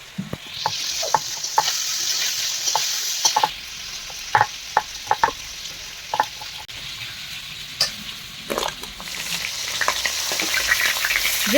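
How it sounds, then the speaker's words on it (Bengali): Fish heads sizzle and fry in hot oil in a pan for a Bengali potol ghonto, a steady frying hiss broken by frequent sharp spits and pops, with occasional stirring clatter, and no talking. "তো মাছের মুড়োগুলো দেখতে পাচ্ছেন আমি ভেজে নিচ্ছি।"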